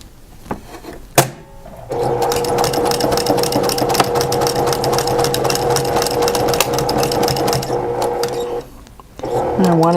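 A sewing machine stitches a quarter-inch seam on a baby blanket, running in one steady, close, mechanical whir for several seconds after a few brief clicks, then pausing before starting up again.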